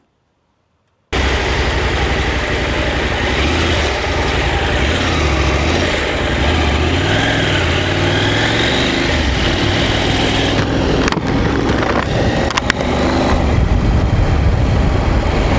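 A KTM 890 SMT motorcycle engine runs steadily and loud after a second of silence, a continuous close-up drone with a few brief clicks and knocks near the end.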